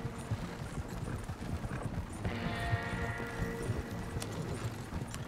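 Horse galloping in Red Dead Redemption II, a steady rapid clip-clop of hooves running throughout, with a brief whinny-like tonal layer midway.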